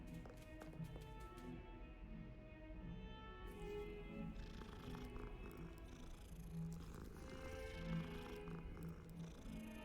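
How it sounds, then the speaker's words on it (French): A cat purring in the video game Hogwarts Legacy, a soft continuous rumbling purr low in level under game music and ambience. "Oh, petit chat!"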